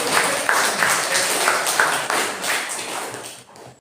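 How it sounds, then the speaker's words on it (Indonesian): A classroom group applauds during a physics lesson, producing steady, dense clapping that holds at a fairly even level for several seconds before cutting off. "berikan tepuk tangan untuk hasil"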